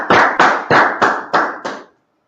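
A class claps together in a brief, loud burst, six evenly spaced rounds of hand claps in quick rhythm that stop abruptly, with no talking over them.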